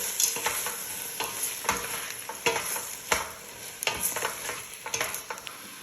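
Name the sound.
stirring garbanzos in a pan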